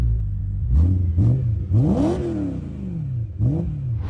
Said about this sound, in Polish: mamy karbonową lotkę, karbonowy dyfuzor i układ wydechowy z APF. E.